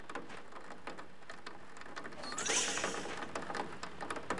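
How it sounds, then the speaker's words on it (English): Soft steady video game rain patter with a faint whooshing sweep midway and light mechanical hum, quiet and continuous. "Looks like it's raining outside."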